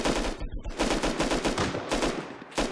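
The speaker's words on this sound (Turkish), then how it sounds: "Oğlum adam bizi vuruyor ya." Rapid bursts of gunfire in the survival game Rust, loud and close, with fast repeated shots like an automatic weapon firing almost continuously throughout.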